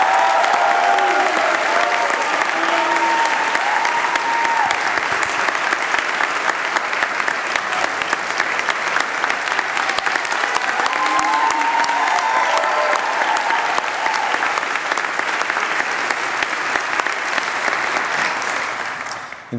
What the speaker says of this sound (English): I would love for you to all give Charlie a round of applause as he comes forward to be recognized.